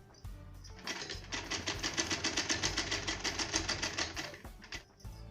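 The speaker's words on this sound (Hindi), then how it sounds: "ये हमने मशीन चला के इस पर सिलाई लगा ली है।" A sewing machine stitches a fall onto a saree in one steady run of about four seconds, its rapid rhythmic needle clatter close and clear, starting and stopping sharply.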